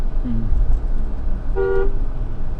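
A single short car horn honk from a Mahindra Thar rings out over a low rumbling road and engine background on the Pune–Lonavala highway.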